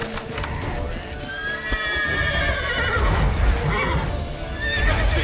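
Horses neigh and whinny repeatedly in The Witcher 3 over a busy game soundscape, with hoof clip-clop running steadily underneath, loud and near throughout.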